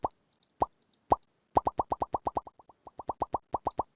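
Volume-control feedback sound from PulseAudio on Linux Mint 20.3 Xfce: short plopping blips, three spaced singles and then a fast, even run of repeated pops, close and clear with no talk.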